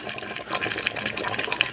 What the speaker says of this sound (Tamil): கொஞ்சம் தண்ணி ஒரு சொம்பு தண்ணி ஊற்றி கறி வேகிற அளவுக்கு ரெண்டு சொம்பு தண்ணி கூட விட்டுக்காங்க